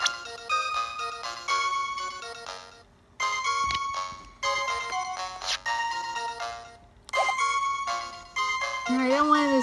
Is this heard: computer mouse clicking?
no